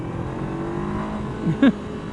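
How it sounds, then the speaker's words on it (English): A 2017 Honda CBR500R motorcycle engine hums steadily in first gear, then rises in a brief, short rev near the end of a very short stretch. "Let's check first gear and how peppy it is."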